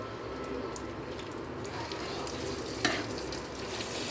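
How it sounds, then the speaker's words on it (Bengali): Pointed gourd (patol) lightly frying in oil, a steady close sizzle that runs throughout, with soft stirring scrapes and a brief sharper crackle near the end. "এইবার এটাকে হালকা করে তেলে একটু ভেজে নিব"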